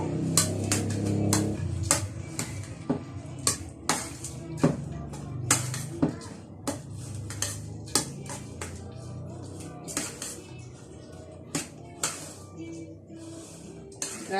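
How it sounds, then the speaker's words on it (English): Minced beef being mixed by hand in a bowl for Kenyan beef kebabs, heard as quiet, irregular clinks and taps against the dish over a soft, muffled background. "I'll mix the minced meat well."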